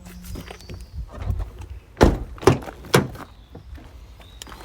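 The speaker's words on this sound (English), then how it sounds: "Let's pop the bonnet while we're here" Bonnet release on a 2017 Nissan Navara 2.3 DCI Tekna pickup popped open, giving a few sharp, close thunks and clunks in quick succession around the middle, with lighter handling noises before and after.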